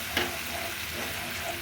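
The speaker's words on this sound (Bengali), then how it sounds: "এখন আমি নেড়ে নিচ্ছি সুন্দর করে।" Coriander and turmeric powder being stirred in a hot pan for an ilish fish curry with taro, a soft continuous sizzle with a brief scrape of the spoon near the start.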